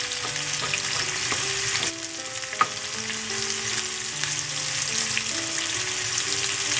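Green chilies frying in a pan for moong masoor dal, a steady loud sizzle with a bright hiss, one sharp clink of stirring partway through, and soft music underneath.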